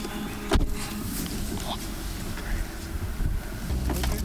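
Strong wind blows outdoors in Iceland, a constant low roar and buffeting rumble across the microphone with one sharp gust thump near the start.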